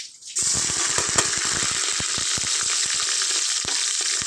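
Two onions and four green chilies hit hot oil for a mutton curry, a sudden loud sizzle that holds as a dense steady hiss with many sharp crackles and pops, close up and with no talking.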